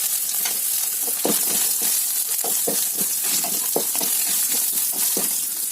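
Dry coconut, walnuts and cashews sizzling in hot oil in a pan, a continuous close crackle broken by repeated scraping stirs of a spatula.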